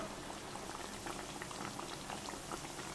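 Corn masala vadas deep fry in hot oil over medium gas, giving a dense, bubbling, continuous fizz at close range with no voices.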